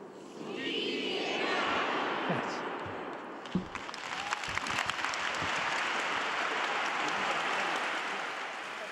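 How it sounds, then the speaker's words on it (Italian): A large crowd in St. Peter's Basilica in the Vatican applauds Pope Francis at a general audience, sustained reverberant clapping filling the hall while a voice speaks over it. "con questo applauso i presenti qui nella Basilica Vaticana salutano e ringraziano Papa Francesco per questo incontro"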